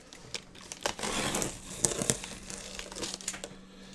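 Cardboard packaging from MediaMarkt being opened, a large carton, with loud continuous crinkling and crumpling, sharp tearing snaps near the middle, close up with no talk.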